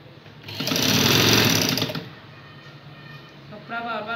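A sewing machine stitches a churidar pajama in one loud, steady motor-and-needle burst lasting about a second and a half, then falls quiet as a voice starts speaking near the end.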